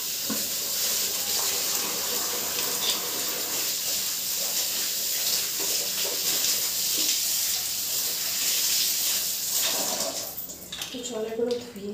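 A kitchen tap runs steadily while removable fridge parts are rinsed, a constant hiss of flowing water with occasional clatters and splashes, and someone talks over it throughout.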